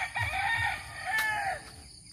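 A fighting cock crows close by outdoors, one loud and clear drawn-out cock-a-doodle-doo in a garden with flowers and lemon trees, followed by quiet background.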